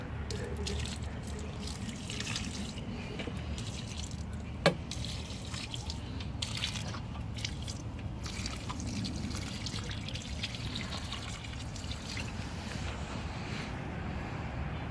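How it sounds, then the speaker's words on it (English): Water is poured from close by onto dry concrete in a backyard post hole for a pergola's 4x6 post, a quiet, continuous trickling and splashing with one small sharp knock partway through. "So I put the concrete and I'm just putting the water."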